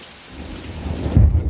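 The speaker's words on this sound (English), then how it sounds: "Nice storm." Steady rain falls on surfaces while a deep rumble of thunder builds and swells near the end, loud and close with no talking.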